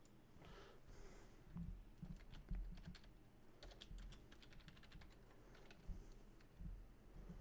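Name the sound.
typing on a computer keyboard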